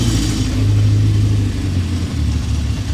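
A 1970 Honda CB750K four-cylinder motorcycle idles from a cold start through OEM HM300 pipes, with a deep, steady low rumble and a slight uneven pulse, loud and close, with no voices.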